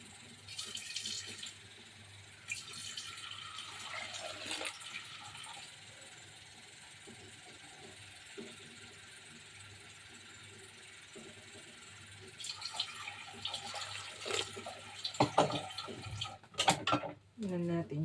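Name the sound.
water being poured into pot for mung bean stew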